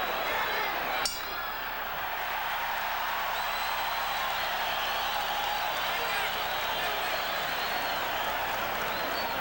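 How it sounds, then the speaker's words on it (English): Crowd at the Julio Cesar Chavez versus Meldrick Taylor boxing fight cheers as a broad, steady distant roar, with a sharp bell-like clink near the start and commentary-like voices mixed in. "the crowd begins to heat up as Julio Cesar Chavez turns up the pressure"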